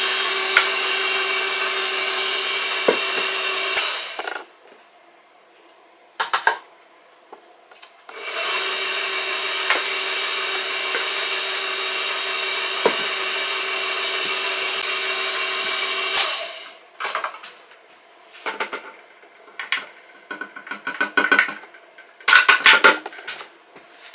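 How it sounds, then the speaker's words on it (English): A KitchenAid stand mixer runs steadily while mixing bread dough made from fresh-milled hard white wheat flour, a continuous motor whir in two long stretches separated by a pause, followed by scattered knocks and clinks of kitchen handling. "and then start mixing it in. With my trusty KitchenAid."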